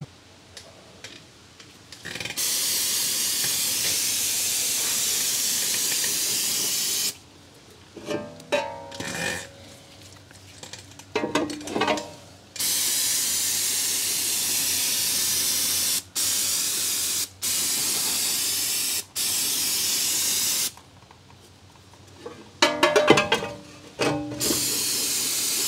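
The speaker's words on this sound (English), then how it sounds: "Take some brake cleaner and just do some general cleanup here." Brake cleaner sprays in long hissing aerosol bursts onto the front brake caliper of a 2015 Jeep Grand Cherokee WK2, close and loud, broken by short gaps with clicks and handling sounds.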